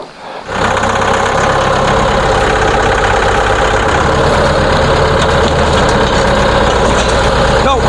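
A tractor engine labors hard while loading logs on a homestead. It starts up close and loud, then holds a heavy, continuous rumble that changes slightly in pitch as the load increases.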